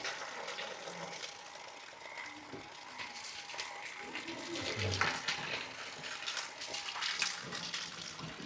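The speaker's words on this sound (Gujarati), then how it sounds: "બહાર વરસાદ ચાલુ છે ધીમી ધારે." Light, steady rain falling outside in a Botad village at night, a soft continuous patter and drip with scattered clatter and faint voices in the background.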